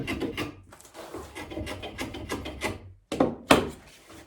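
A file rasps along the chamfered edge of a handmade wooden sword, with close, rhythmic back-and-forth strokes, a short pause and then a few sharper strokes at the end.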